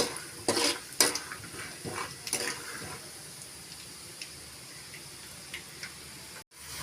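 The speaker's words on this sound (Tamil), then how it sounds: "வேர்க்கடலை நல்லா செவக்க வறுத்துக்கலாம்." Peanuts roasting in oil in a pan on the stove, with a few sharp clatters and scrapes of stirring at first, then a quieter, steady crackle of frying.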